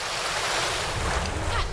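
A character moving through water in the game Europa brings a steady rush of waves and splashing surf, loud and close, with a breezy, windy wash throughout.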